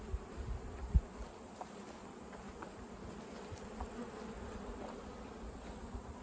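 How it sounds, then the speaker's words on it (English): A steady insect buzz hums low and continuous throughout, like many bees working nearby, with a faint thump early on and no voices. "Bees busy and working right to the top."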